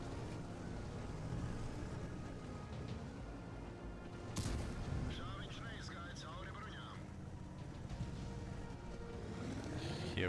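Artillery shell fire in a tank battle video game, a single sharp broadband blast near the middle standing out over constant engine rumble and game noise, with a speaking voice running underneath.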